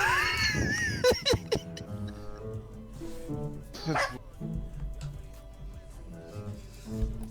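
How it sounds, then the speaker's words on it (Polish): A dog barks and yips repeatedly in the background, loud at first and then in scattered short bursts, while voices talk over it. "to słychać jak ten pies szczeka akurat."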